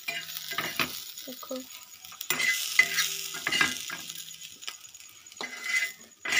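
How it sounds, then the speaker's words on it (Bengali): Vegetables fry and sizzle in a pan while being stirred, with intermittent scraping and clinking of a utensil against the metal. The sizzle stays fairly close, and one brief word is spoken. "পুরো ভাজা হয়ে গেছে, একটু ভেজে নিতে হয় ভেজিটেবলগুলো।"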